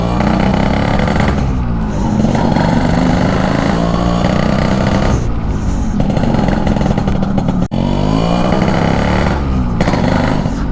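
A restored thirty-year-old Yamaha RX100 motorcycle runs with a loud, steady two-stroke idle that rises briefly in short revs, close by and continuous.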